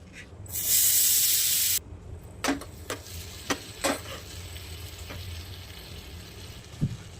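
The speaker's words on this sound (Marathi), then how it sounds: "आपण आहे ना बटरचा तडका देणार आहे" Butter tempering with asafoetida and chili powder for dal hisses loudly in a brief burst, then fades into scattered crackles and sharp clicks of a pan and spoon nearby, with no voices.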